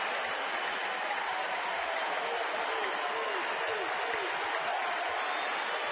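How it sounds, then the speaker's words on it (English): Crowd at a Georgia vs. Mississippi State college baseball game in Athens cheering and applauding for pitcher Joey Volchko, a broad sustained roar of clapping and cheers with a commentator talking over it. "The crowd rises in support of Joey Volchko in Athens."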